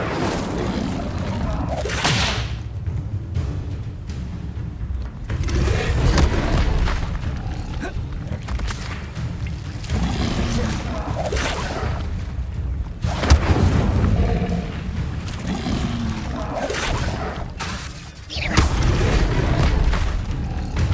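Incendio fire spells and Levioso casts in Hogwarts Legacy combat: repeated deep booms and whooshing bursts over a dense, continuous bed of game noise and music.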